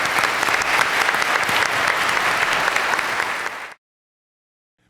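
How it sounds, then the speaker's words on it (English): A crowd at a university debate night applauds candidates for Sheriff of Union County, producing dense, loud, sustained clapping for several seconds before it cuts off abruptly into silence. "Let's give them a round of applause."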